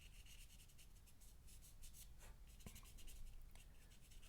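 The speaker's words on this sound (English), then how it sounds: "Just kind of doing a rough sketch." Pencil rubs and scratches across paper in loose, quick strokes while a face is roughly sketched, the soft scraping close and quiet with no voices.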